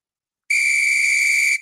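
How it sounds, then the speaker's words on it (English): A sharp referee-style whistle blown once, a single steady piercing blast of about a second, loud and close, with no talk over it. "I got to blow the whistle"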